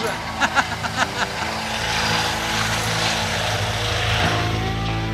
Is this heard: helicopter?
yes